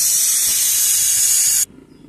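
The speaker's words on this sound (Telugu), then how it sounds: "విజిల్ కుక్కర్లో ఉడికిస్తున్నా." A whistle pressure cooker on a kitchen stove releases a loud, steady, close hiss of steam for about one and a half seconds, then cuts off abruptly into quiet.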